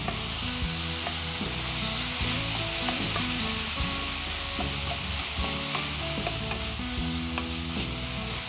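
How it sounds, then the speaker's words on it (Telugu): Ingredients fry in a pan with a loud continuous sizzle, while a spatula stirs them in uneven scraping strokes, close and without voices. "ఇది ఒక్కసారి మనం చక్కగా లైట్గా పచ్చివాసన పోయేంత వరకు వేయించుకోవాలి."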